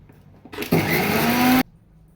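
A kitchen mixer grinder whirs loudly for about a second as it grinds dry ginger and fennel into powder, starting abruptly and cutting off cleanly, with quiet room sound before and after and no talking.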